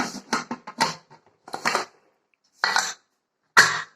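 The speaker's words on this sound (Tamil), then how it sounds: "குக்கரை மூடிடலாம்." Several metallic clatters and scrapes of a pressure cooker lid being handled and closed, a quick cluster followed by two separate clanks after short pauses.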